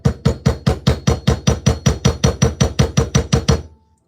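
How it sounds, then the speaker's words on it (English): A hammer strikes a steel railroad tie standing in for an anvil while a golf club shaft is fitted, giving about fifteen steady, evenly spaced metallic blows, close and loud, with no talking, ending abruptly. "Take my hammer here"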